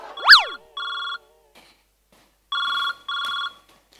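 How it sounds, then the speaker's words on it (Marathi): A telephone ring on a television comedy stage set in an office: an electronic ringtone in short repeated bursts after a brief rising tone, with pauses between them, clear and close. "जरा बाहेर जा माझ्या नवऱ्याचा फोन येतोय"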